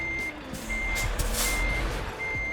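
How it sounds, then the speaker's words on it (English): A heavy truck in Euro Truck Simulator 2 hisses its air brakes in short bursts, while steady reversing beeps repeat in a regular rhythm, loud and close, over a low engine rumble. "Listen to the brakes."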